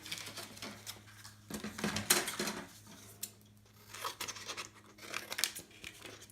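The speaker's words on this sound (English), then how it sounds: "let me just fussy cut that out." Scissors snip and rustle through a sheet of patterned paper, fussy cutting around a traced mini paper dress shape, with repeated close crisp cuts and crinkles broken by short pauses, no voices.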